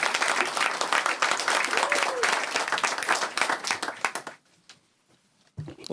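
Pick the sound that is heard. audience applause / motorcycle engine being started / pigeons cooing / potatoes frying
audience applause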